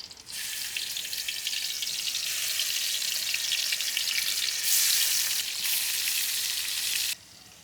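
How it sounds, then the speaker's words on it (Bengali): Hilsa fish tails coated in turmeric and salt sizzle and fry steadily in mustard oil in a pan, a dense close crackle that swells briefly near the end and then cuts off abruptly. "লেজটা ভাজার জন্য কড়াই দিলাম সরিষার তেল।"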